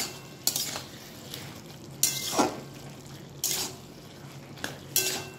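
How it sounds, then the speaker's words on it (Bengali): A spoon scrapes and clinks against a pan while vegetable curry with potatoes and sugar is stirred, giving several sharp metallic knocks at irregular intervals over a faint background of cooking. "এবারে ভালো করে মিশিয়ে নিচ্ছি।"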